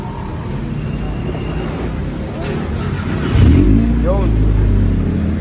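A Honda Civic engine with a newly installed muffler, revving up from idle with a rising then falling pitch, loud and close over a steady rumble, with a voice talking in the background.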